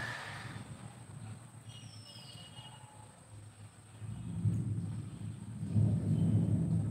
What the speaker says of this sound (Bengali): তো কীরকম মেঘ ডাকছে দেখো